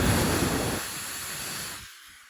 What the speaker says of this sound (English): that's where I'll drill my hole